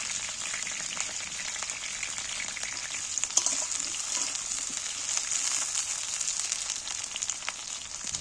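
Spices frying in oil in a pan give a continuous, even hiss and crackle, fairly faint and unbroken, with a few tiny pops and no voices.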